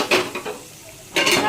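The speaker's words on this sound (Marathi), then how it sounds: "आणि थोडा हे तडका देऊया" Tadka tempering for egg masala in a pan at home, with bursts of sizzling spice and metal utensil clinks, loud and close, pausing briefly before a second sizzling burst.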